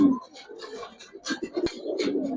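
Giribaz pigeons in a loft cooing in short, soft, repeated bursts close by, with faint human sounds around them.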